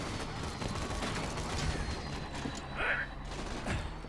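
Rapid bursts of gunfire from enemies in the shooter game Borderlands 2, crackling in a dense barrage over game sounds and mechanical clatter, with a voice talking underneath.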